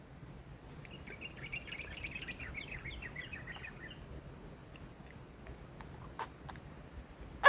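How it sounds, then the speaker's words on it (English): Birds chirp and twitter in a quick, bright flurry outdoors, fairly close, over a quiet background with faint insects. The song thins out after a few seconds to a few scattered calls. "The birds sing confirmation. They sing reverence."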